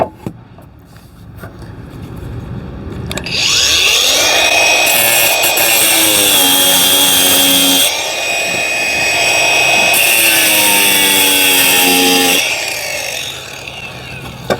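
An angle grinder spins up loud and close and cuts two short stress-relief slots into a tile, a harsh high whine with grinding rasp in two sustained passes, a brief easing between them, then winding down.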